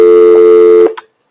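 Steady telephone line tone in a live call-in television studio, a loud continuous buzz that cuts off abruptly after nearly a second, followed by a short blip, then silence.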